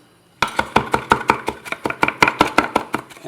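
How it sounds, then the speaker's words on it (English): Fresh spinach is roughly chopped with a knife on a chopping board, about fifteen quick, even, crisp knocks of the blade in a steady rhythm, close up and alone after a short quiet start. "Onto the chopping board we want to put our spinach, and I want to roughly chop this"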